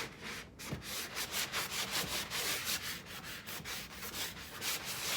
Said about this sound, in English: I'm sanding to get some of the bumps and lumps out